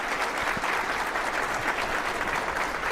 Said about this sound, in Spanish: Les pido por favor a todos un aplauso para nuestros 4 expositores.